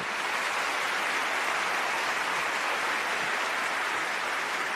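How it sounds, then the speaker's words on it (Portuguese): Steady, dense applause from a crowd at a corporate talk event in São Paulo, loud and unbroken for the whole stretch. "uma salva de palmas para o Bertrand Pedro"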